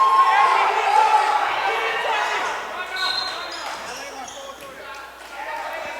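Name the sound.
crowd roaring after a breakaway dunk at a basketball game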